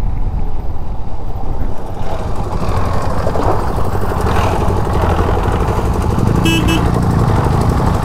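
Motorcycle engine on a solo ride through Spiti, India, rumbling loudly and steadily close by as the bike slows and settles toward a rough idle, with a brief higher whine near the end.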